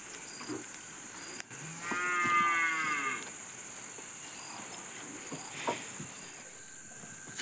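A Khillari cow in a shed gives one long, loud, nearby moo lasting about a second, with crickets chirping steadily in the evening background and a few faint knocks.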